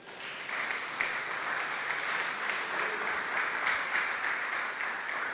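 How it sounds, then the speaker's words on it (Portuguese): Church congregation applauding steadily at a worship service, a dense, continuous clatter of many hands filling the room at fairly even loudness throughout. "Aplauda o Senhor."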